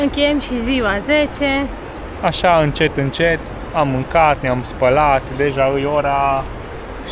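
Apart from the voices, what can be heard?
No everyday noises stand out.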